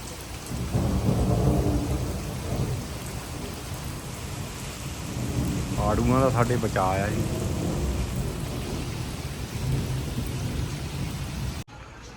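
Heavy rain from a thunderstorm, with thunder, pours down steadily throughout while someone talks over it at close range.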